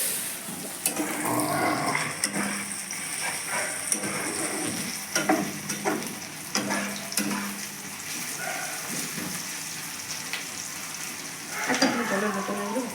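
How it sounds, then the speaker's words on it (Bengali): Onions and garlic fry in a pan for mutton curry, a steady close sizzle with scraping stir strokes throughout. "পেঁয়াজ ভাজতেছি।"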